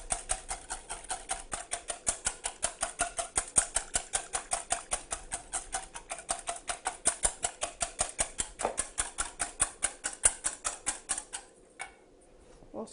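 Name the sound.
whisking egg yolks with agave syrup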